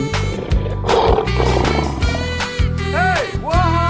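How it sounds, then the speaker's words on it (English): A lion roars in a 3D animal video game, a loud, close call layered over bright game music and cartoon sound effects, with several rising and falling tones near the end. "Lion."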